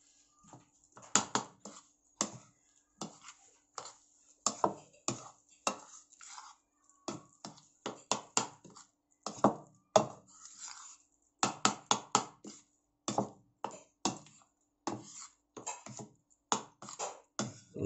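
A spoon clinks and scrapes through a carrot ball mixture in a bowl, quick uneven taps in bursts with short pauses between them, close by and fairly soft.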